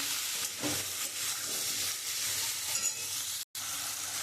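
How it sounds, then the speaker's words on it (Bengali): Ground turmeric, cumin and chilli powder with green chillies and salt sautéing in hot oil for a radish and puti fish curry, a steady close sizzle with stirring scrapes and one brief dropout, no talking. "এবার মশলাটা দিয়ে খুব সুন্দর করে কষিয়ে নেবো"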